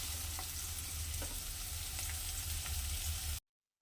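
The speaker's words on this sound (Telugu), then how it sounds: "బాగా దోరగా వేయించుకోవాలి. ఇవి బాగా వేగాలండి." Cashews with onions fry in a pan for cashew mutton curry, giving a loud, steady, close sizzle with faint stirring clicks that stops abruptly near the end.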